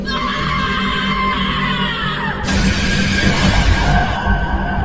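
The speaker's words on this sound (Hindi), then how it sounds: "नीचे के फ्लोर से एक बड़ी भयानक चीख उन तीनों ने साफ साफ सुनी" A terrible, piercing scream sound effect for a horror story, loud and harmonic for about two and a half seconds, then giving way to a harsh, rushing noise.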